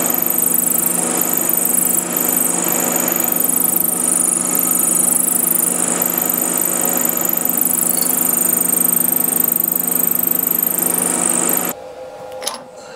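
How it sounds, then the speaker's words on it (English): A milling machine cutting with a 6mm end mill on a part for a 7 1/4 inch gauge miniature locomotive's valve gear, a loud steady high-pitched whine that runs for about twelve seconds, then stops abruptly. "I'm going to use this 6mm end mill"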